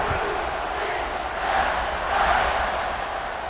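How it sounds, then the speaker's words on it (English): A stadium crowd roars steadily in EA Sports College Football 26 during a BYU versus UCF game, a broad, continuous buzz that swells slightly midway, with no distinct cheers standing out. "this crowd is buzzing after that last score"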